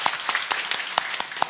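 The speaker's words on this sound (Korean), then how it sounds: "저희들이 박수로 환영하도록 하겠습니다" A church congregation at a Sunday worship service claps in welcome for a member's daughters, giving sparse, irregular handclaps at close range with no voices.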